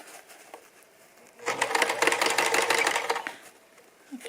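A sewing machine runs in one steady burst of stitching across a fabric Christmas stocking, lasting about two seconds between quieter pauses.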